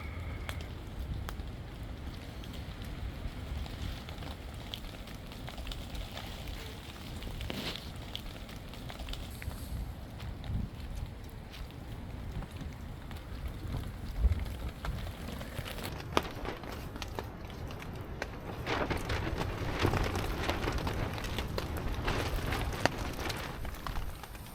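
Rain and wind at a winter wild camp, a steady diffuse rush and patter with gusts swelling toward the end, plus occasional crackles and handling noises nearby, with no talk.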